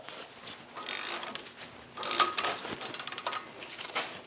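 A ratchet with a 21mm socket works loose the caliper bracket bolts on the back of a Chevrolet Express front brake caliper, giving a series of quick clicking and metallic ratcheting bursts, close and fairly quiet, with no talk.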